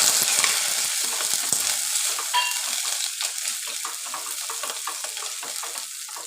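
Curry leaves hit hot masala of ground tomato and spices with a loud, crackling sizzle that spits and pops continuously, easing slightly as the oil settles.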